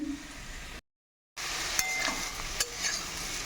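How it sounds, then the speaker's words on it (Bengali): Steady hiss of potatoes lightly frying in hot oil, with a brief silent gap and a few light scrapes or stirs; no voices. "আলুগুলোকে হালকা করে একটু ভেজে নিলাম"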